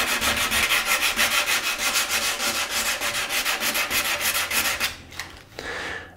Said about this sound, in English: And then just sand these areas by hand.